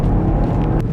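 A Toyota GR Yaris drives in sport mode, its engine and road noise forming a loud, steady low rumble from inside the cabin with no break in the drone.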